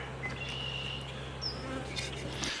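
Honeybees buzzing steadily around a beehive, a close, continuous drone with individual bees passing nearby, no talking.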